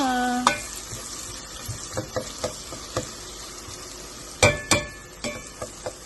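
Squid dinner sautéing in a pan with tomatoes, a constant soft sizzle under repeated metallic scrapes and clinks of a spatula stirring, close up with no talking.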